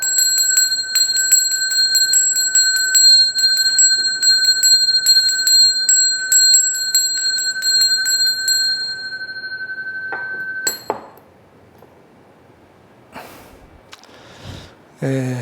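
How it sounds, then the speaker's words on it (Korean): A bell with a bright, sustained metallic tone is rung repeatedly in quick strikes for about ten seconds, then left to ring out and fade, followed by quiet handling noises. "반갑다는 메시지를 이 종소리로 대신하겠습니다"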